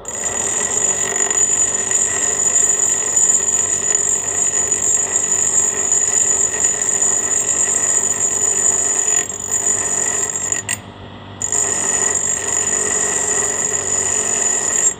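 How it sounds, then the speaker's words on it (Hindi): A handheld grinder works on a Royal Enfield shock absorber part, giving a loud, continuous high-pitched whine that drops out briefly near the end before resuming. "मेरे कने ये है ग्राइंडर है, मैं थोड़ा ग्राइंडिंग कर लेता हूँ"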